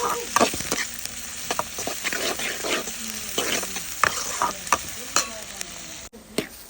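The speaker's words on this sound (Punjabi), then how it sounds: "ਪਿਆਜ਼ ਪਾਉਂਦੇ ਆ ਚੰਗੀ ਤਰ੍ਹਾਂ ਪਿਆਜ਼ਾਂ ਨੂੰ ਬਰਾਊਨ ਕਰਕੇ" Onions sizzle in a hot pan while being stirred, the close crackling fry punctuated by frequent scrapes and knocks of the spoon against the pan.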